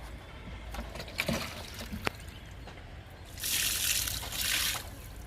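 Kitchen waste liquid made with carrot, beetroot and almonds poured onto a guava plant, a faint trickle with a few splashes, then a louder stream of pouring near the end.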